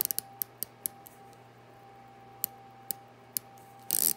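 A 120-click coin-edged bezel on a Christopher Ward C65 Dartmouth watch gives sharp, close ticking clicks in irregular bursts as it turns, quiet between clicks, ending with a brief scraping rattle.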